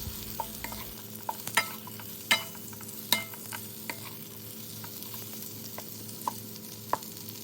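A spoon scrapes and clicks repeatedly in a pan where chicken meatballs and carrots fry, with irregular stirring knocks over a continuous close sizzle.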